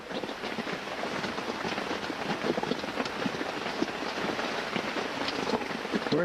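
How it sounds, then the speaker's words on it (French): Heavy rain pouring onto a tent, a dense, constant patter of drops drumming on the fabric, loud and close with no voices. "il tombe des trompes d'eau"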